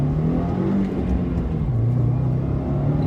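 A 2015 Subaru WRX engine revs hard and steadily, its low droning pitch rising and dipping as it is held at high revs, loud and close with no talking.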